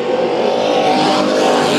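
A race car roars loudly past the line at Bakersfield Speedway during a heat race, a dense, sustained engine drone with no talking.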